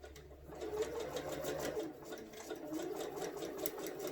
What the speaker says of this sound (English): you don't have to sew a perfect 1/4 inch